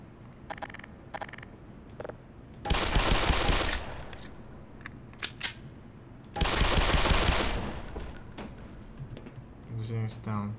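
Gunfire in the Black Mesa Source game, shooting down an enemy during the Surface Tension chapter: two long, loud bursts of rapid automatic fire separated by quieter clicks and shots.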